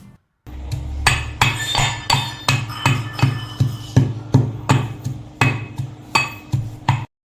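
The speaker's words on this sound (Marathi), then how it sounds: "थोडी विलायची आहे ती कुटून घेऊ आपण।" Roasted almonds, cashews and cardamom for carrot halwa are pounded in a steady rhythm of about twenty sharp, clinking strikes, loud and close, with no other sound.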